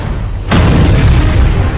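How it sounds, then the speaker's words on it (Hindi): A weapons depot explosion in Krasnodar, Russia, hits as one sudden loud boom halfway through, then leaves a heavy rumbling roar that continues to the end. "रूस के क्रास्नोडार हथियार डिपो में हुआ धमाका"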